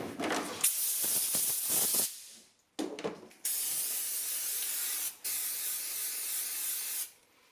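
Car parts for a 1976 Mazda RX-5 Cosmo restoration are sandblasted in a blast cabinet. Several bursts of harsh hissing air start and stop, with brief silent gaps between them and a long final blast.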